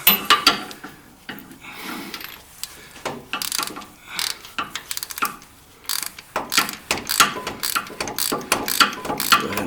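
A ratchet clicks rapidly in repeated bursts as it tightens an oil cooler bolt on a Nissan Frontier, Xterra or Pathfinder engine, with close metallic pawl chatter and brief pauses between strokes.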